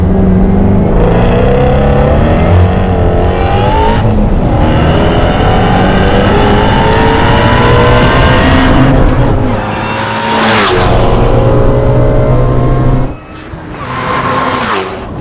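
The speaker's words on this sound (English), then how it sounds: "you're gonna wanna live in the really high RPM range where the supercharger just gives you power everywhere in every gear throughout all the rev range" A supercharged Shelby GT350 Mustang with the HPE850 package screams at high RPM on a track, with a loud sustained engine roar rising through the gears, a sharp drop between shifts and a fainter tail at the end.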